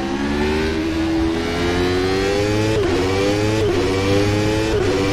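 McLaren MP4/8 Formula car engine in the racing game rFactor 2 with an ASR mod, a loud sustained whine rising steadily in pitch through the gears, with three quick dips at shifts, heard alone without speech.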